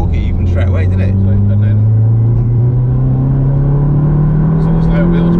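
A Stage 3 VW Golf GTI Clubsport pulls hard in fourth gear, its engine note loud and close and climbing steadily in pitch, with people talking over it inside the car.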